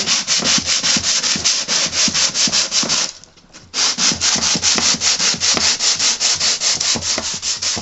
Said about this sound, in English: So always be aware of the direction of your grain and sand with the grain.